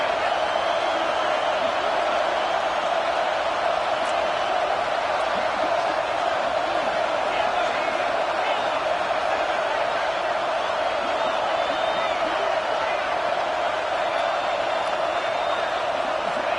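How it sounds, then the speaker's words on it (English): A stadium crowd in the Madden 25 football video game sends up a constant dense roar on a big third down, even and unbroken throughout. "Big 3rd down as the crowd gets behind this defense."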